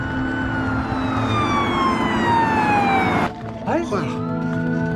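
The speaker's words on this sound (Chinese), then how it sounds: "这边警车" A police car siren wails loud and close in a crime-drama scene, its pitch sweeping downward again and again, then cuts off abruptly after about three seconds as voices and movement take over.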